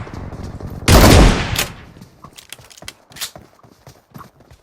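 A single loud shotgun blast in the video game BGMI, followed by a short ringing tail, then scattered lighter clicks and thuds of in-game movement.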